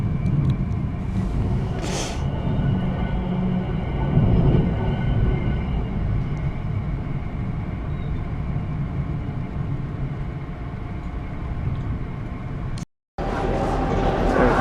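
Sunlander passenger train at busy Townsville station, a steady rumble with a brief hiss near the start, continuing at even loudness before a short cut, with people talking faintly in the background.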